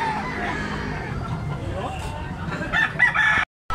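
A young rooster, a stag, crowing close by, its drawn-out strained call rising in the latter half over outdoor background noise and a low murmur, ending abruptly.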